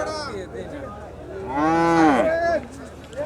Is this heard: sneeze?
no